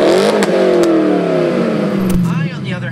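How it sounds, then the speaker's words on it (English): A 2001 C5 Corvette with an SLP Loudmouth exhaust growls loudly, its engine note sliding gradually downward as revs fall, with a person talking over it. "This SLP loudmouth exhaust system on my 2001 C5 Corvette."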